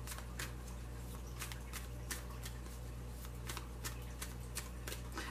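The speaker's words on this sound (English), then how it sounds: "don't know why I'm still shuffling these cards" Tarot cards are shuffled repeatedly in quick, crisp riffles, a steady rapid flutter of paper close by with a low hum underneath.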